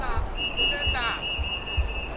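A sustained high referee's whistle blast sounds at an American football game between Hiroshima Hawks and Mie Firebirds, held steadily over crowd noise and a commentator's voice.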